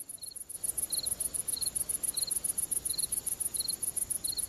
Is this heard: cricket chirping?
yes